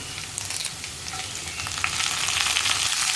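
Fresh curry leaves dropped into hot oil while making a green peas curry, giving a loud, close, continuous sizzle and crackle of frying that swells toward the end.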